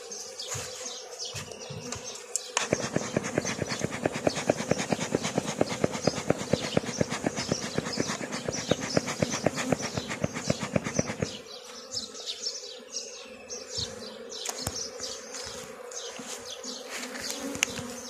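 Honeybees swarm around beehives as two colonies are merged, a dense close-up buzz that swells loud for several seconds, then continues more thinly with scattered flybys.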